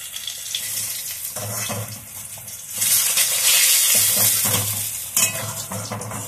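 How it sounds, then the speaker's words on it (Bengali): Oil sizzles steadily in a pan as lentil dumplings fry, with bursts of stirring and scraping, growing louder midway, close and continuous with no voices. "একটু বড়িটা ভেজে নিই"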